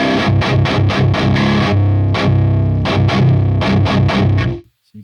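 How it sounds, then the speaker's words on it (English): Heavily saturated, distorted metal guitar through the Audio Assault Hellbeast amp plugin with its master knob cranked, playing chugging palm-muted riffs and choppy stabs, loud and alone before cutting off. "if you crank it, the volume doesn't increase, but you get a nice saturated sound."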